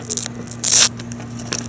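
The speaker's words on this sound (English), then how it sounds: "double-sided tape," Backing strips away from double-sided tape used to mount a snowboarding intercom, a short, close tearing rasp among lighter crackles over a low steady hum.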